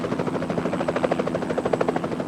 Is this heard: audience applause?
no